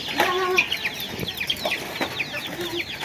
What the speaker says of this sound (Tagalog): Ating mga manok. Malalaki na.